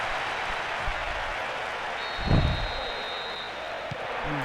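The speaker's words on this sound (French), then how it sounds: "Écoute la foule. Le bruit dans ce stade." Crowd noise in a football stadium: a dense, steady roar of many voices and clapping runs throughout at a constant loud level, with a brief swell just past the middle.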